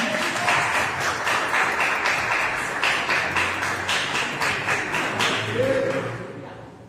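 A church congregation at a women's worship service applauds in a steady, dense wash of clapping that continues for several seconds, then tapers off toward the end.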